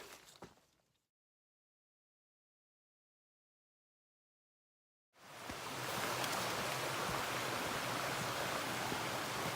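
Stream water on the Appalachian Trail, flowing toward the James River, rushes in a steady broadband wash that starts abruptly after a silent gap and continues loud to the end.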